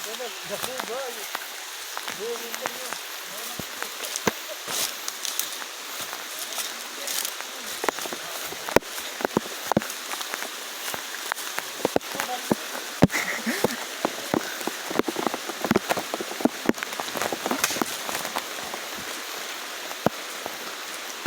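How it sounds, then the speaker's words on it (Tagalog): Steady rain patters down with scattered sharper drops tapping a surface, a continuous wash of hiss throughout, with brief voices faintly under it. "Nasaktuhan natin yung nature na nagpapakawala ng ulan."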